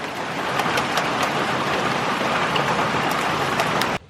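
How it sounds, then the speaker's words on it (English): A sudden downpour of heavy rain with giant raindrops at a homestead, a dense, loud, steady hiss of drops hammering surfaces that cuts off abruptly at the end. "it started pouring rain,"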